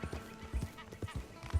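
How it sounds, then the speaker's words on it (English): Horse hooves clip-clop at a slow walk in Red Dead Redemption 2, a steady series of soft low thuds close by over faint ambient game sound, with an occasional snort or whinny-like noise. "Let's just slow to a clippity-clop."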